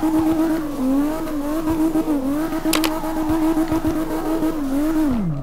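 A 900 HP BMW E34 M5 drifts in CarX Drift Racing Online, its engine droning and wavering in pitch as revs rise and fall, with a brief tire chirp and a falling pitch at the end.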